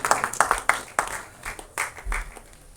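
Audience at an album song screening festival breaks into applause, a burst of scattered claps that thickens into steady clapping across the hall, then trails off, with no voices over it.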